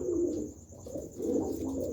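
Soft, low cooing of a red China racing pigeon in repeated throaty phrases, fairly close, with a faint steady background hum and no talking.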